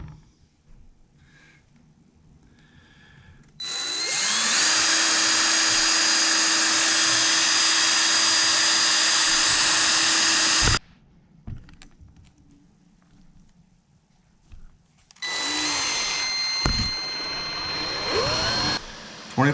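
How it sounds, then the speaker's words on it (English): A 25 millimeter (1 inch) hole saw is drilling into a Jeep Wrangler JK interior panel beside a switch. It makes a loud, steady grinding whine for about seven seconds, stops, and then a second shorter burst of cutting follows. "25 millimeter or 1 inch hole saw."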